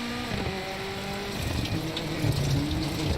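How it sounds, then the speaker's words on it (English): A Mini rally car engine in the racing game WRC 7 drones steadily at high revs, loud and continuous, with pitch rising and shifting as gears change. "the Mini does have an engine noise"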